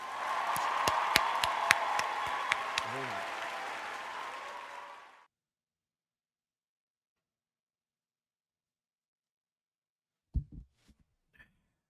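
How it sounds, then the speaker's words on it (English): An audience bursts into applause, a thick patter of clapping with a few sharp, louder claps standing out. It stops abruptly after about five seconds, leaving silence broken only by a couple of faint knocks near the end. "Round of applause for this guy."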